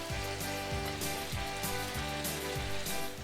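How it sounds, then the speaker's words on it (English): Fish going into a bubbling jambalaya pot gives a steady, dense sizzle and crackle, close and loud, with faint rhythmic knocks underneath and no voices. "Now we're going to add our fishies."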